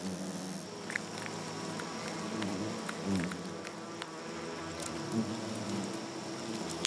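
Asian giant hornets swarm at their nest, a dense continuous drone of buzzing wings with individual insects zipping close past now and then over the steady hum.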